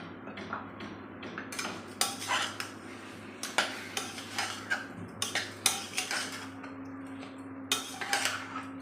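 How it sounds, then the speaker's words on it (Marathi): Washed short-grain rice being stirred with chicken in a pot for pulao: a spoon scrapes and clatters against the metal in irregular bursts, with a faint sizzle underneath and no talking. "आणि हे जे धुतलेले तांदूळ आहे हे छान आपण चिकनमध्ये परतून घ्यायचे आहे"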